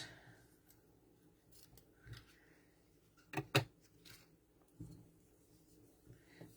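Quiet close-up snips of scissors cutting ribbon, a couple of sharp cuts in quick succession, surrounded by faint rustling.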